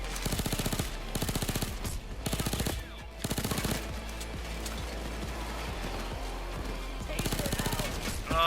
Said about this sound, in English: Oh, that's a minigun dozer.